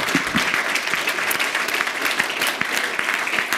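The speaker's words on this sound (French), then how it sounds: "Vous pouvez l'applaudir." Audience applause for Florian Picot at a French prize ceremony honouring him with the André Blanc-Lapierre 2019 award: dense, steady clapping from a full room, continuous and fairly loud throughout with no pauses.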